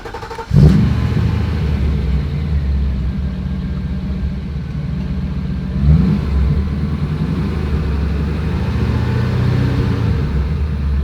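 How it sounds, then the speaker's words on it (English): The 6-liter AMG engine of a 1989 Mercedes 560 SEC wide body fires up with a sharp start, settles into a deep, loud idle and gives a brief blip of revs midway. "That's a fantastic deep sound of the AMG 6-liter Mercedes engine."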